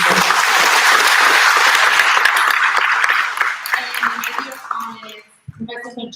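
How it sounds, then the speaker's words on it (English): Sustained applause from a conference audience at an Asian intellectual property and innovation research gathering, loud and dense at first, then thinning and tapering off toward the end, with faint voices and scattered claps as it dies down. "help me with a big applause to thank Universitas Indonesia"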